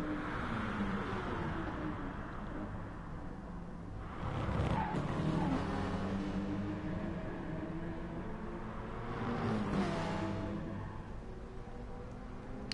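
Race cars in Gran Turismo Sport, including a Porsche and a BMW M6, roar along a mountain track with engines droning, two swelling passes and tyre squeal, heard without talk.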